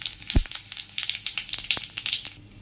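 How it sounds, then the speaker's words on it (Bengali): Dry red chillies, bay leaves and whole cumin crackle and spit in hot mustard oil, a busy run of sharp pops and sizzles close up, with one heavier thump near the start. "ফোড়নে দেব শুকনো লঙ্কা, তেজপাতা, আর সঙ্গে গোটা জিরে।"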